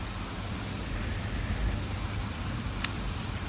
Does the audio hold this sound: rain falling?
yes